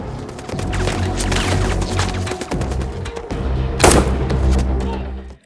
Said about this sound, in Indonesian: Sementara yang berhasil menghindar lanjut adu tembak dengan O'Brien dan Bob Lee.